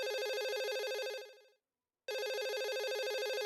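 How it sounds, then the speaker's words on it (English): A telephone rings for an incoming call with a bright, buzzing electronic trill in two long bursts separated by a short silence, loud and clear with nothing else heard. "We've got a phone call. Wonder who this is."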